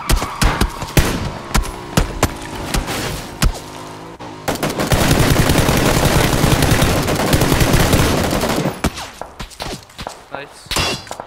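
Repeated gunfire from PlayerUnknown's Battlegrounds, sharp close shots at first, then a dense sustained volley of automatic fire in the middle, trailing off into scattered cracks, with faint voices mixed in.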